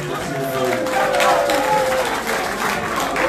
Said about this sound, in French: Il faut applaudir pour l'artiste